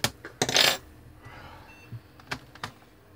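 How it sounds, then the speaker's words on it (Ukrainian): Latches on a Dell N5110 laptop keyboard are unclipped and the keyboard is lifted, giving a few light plastic clicks and snaps, including a brief rattling burst near the start, close and fairly quiet, with no talking. "І просто відщолкуємо і піднімаємо зразу клавіатуру, щоб вони защелки не защелкувалися."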